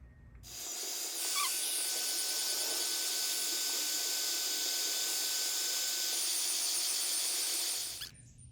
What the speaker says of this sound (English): So I'm going to hit it with my heat gun.